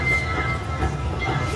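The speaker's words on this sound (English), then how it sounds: "Train's doing a U-turn." A fairground train ride at the Colorado State Fair rumbles along in a steady, close mechanical drone with faint rail clatter and a thin high whine.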